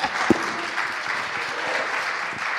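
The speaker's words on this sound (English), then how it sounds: "You can clap." Audience at a Bitcoin conference panel in El Salvador applauding, a short burst of scattered clapping from a modest crowd, fairly close and steady, with no talk over it.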